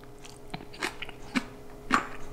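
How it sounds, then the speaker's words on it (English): Crunchy fermented vegetable kimchi is chewed up close, with four distinct crisp bites spaced about half a second apart and no talking. "For me, I enjoy eating fermented vegetable kimchi with my meal."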